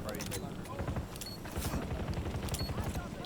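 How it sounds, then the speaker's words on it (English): Weapon reloading in the battle royale video game Black Ops Royale / Warzone: quick mechanical clicks and clacks over a steady busy game background, with someone talking throughout. "I'm reloading."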